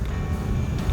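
A Dilubis Windfree portable DC fan with a built-in LED runs on its fourth, highest speed, giving off a loud, steady, close rushing airflow roar with a low rumble and no voices.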